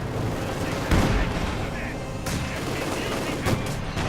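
A Puma armored car firing in the Company of Heroes 2 video game: gunfire shots sit within dense, steady battle noise, with a voice talking over it.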